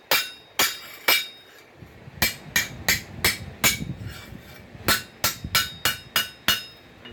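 Hammer blows on hot metal while forging a hoe from pipe, about a dozen sharp ringing strikes in irregular bursts, close and clear with no talking.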